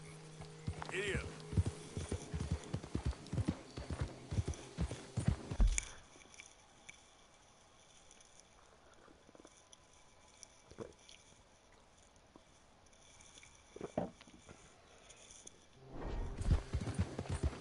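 Horse hooves clip-clop rhythmically in the video game Red Dead Redemption 2, quick steady hoofbeats up close that cut off abruptly, then a quiet stretch before the hooves resume at the end.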